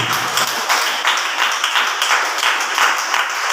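Congregation clapping hands at a fasting prayer service, a dense, steady run of close, loud claps throughout with no pauses.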